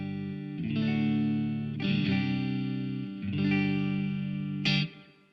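Electric guitar through a Blackstar St. James 6L6 cab rig with two cabs panned hard left and right, clean and dry; three sustained strummed chords ring out one after another, then a short bright final strum that cuts off.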